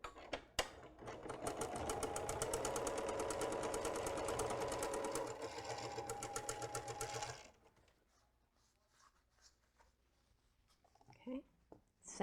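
A sewing machine stitches a quarter-inch quilt seam joining a half-square triangle unit to a rectangle unit. It whirs steadily and close for about seven seconds, then stops, followed by faint handling noises.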